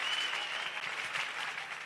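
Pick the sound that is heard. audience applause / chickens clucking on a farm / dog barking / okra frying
audience applause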